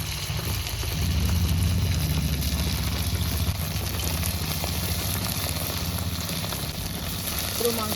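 Chicken pieces fry in white oil in a wok, giving a steady, dense sizzle that holds at an even loudness throughout, close by.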